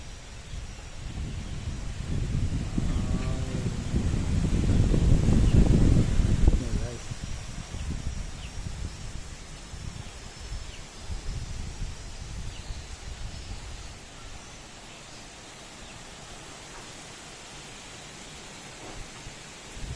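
Strong wind gusting through trees with leaves rustling, a broad roaring swell that peaks early then eases into a steadier, softer rush.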